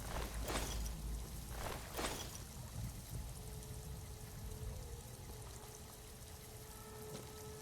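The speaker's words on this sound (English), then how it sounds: "Why does it sound like there's water spraying somewhere?" Steady hiss of water spraying somewhere in Fallout: New Vegas, a continuous broadband wash lasting throughout, with a couple of brief louder bursts early on and a faint tone entering later.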